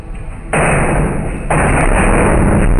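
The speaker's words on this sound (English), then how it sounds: "So a series of super loud bangs on the wall are heard, the mirror shakes violently, and then a sculpture falls down." Loud heavy bangs strike a wall inside a home, shaking a mirror and toppling a sculpture. Two sharp, forceful impacts land about a second apart, each followed by sustained loud rumbling clatter.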